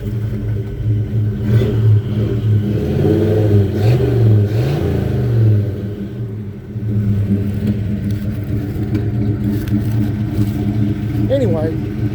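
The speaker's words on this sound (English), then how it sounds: "I just thought I'd do a cold start." A 1984 Chevy C10 farm truck with a 350 V8 and four-speed idles after a cold start, a steady loud rumble with a brief dip and a rev, while someone talks over it.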